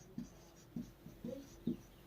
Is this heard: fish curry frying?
no